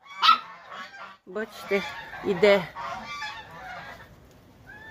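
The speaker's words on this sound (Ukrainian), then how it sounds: "гуси почули мій голос уже. Кричать, чого ж так вони мене не люблять?" Domestic geese honk loudly outdoors on a cold, wet, windy day in repeated harsh bursts, several birds calling over one another, with a voice briefly speaking among them.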